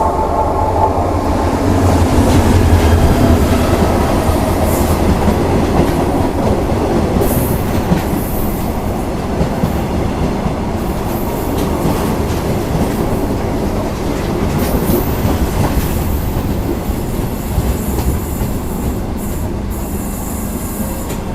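A Malaysian sleeper train runs steadily along the rails, a continuous loud rumble with rhythmic clickety-clack of wheels over joints and occasional faint wheel squeal, heard from inside the carriage.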